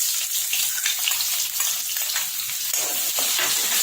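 Chopped onion dropped into hot oil with cumin and asafoetida sizzles loudly and steadily up close, with stirring adding a brief flare of bubbling partway through.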